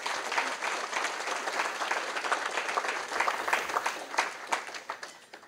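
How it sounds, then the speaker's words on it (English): A crowd applauds steadily at an engineers' hall of fame banquet, dense clapping that thins into a few distinct claps toward the end. "Please join me in giving them a big hand of applause"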